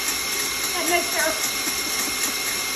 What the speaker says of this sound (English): what I like to do is stop the mixer just for a minute